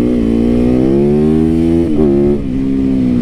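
A fuel-injected motorcycle engine revs loud and close, holding a steady high idle with a brief blip of throttle near the end, with no talk over it.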